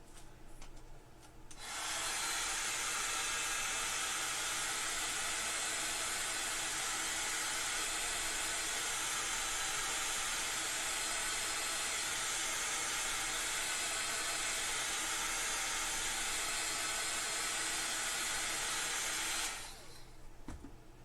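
A handheld craft dryer blows on a Christmas craft piece, switching on with a loud steady airy roar that holds for about eighteen seconds close to the microphone before cutting off, no talking over it.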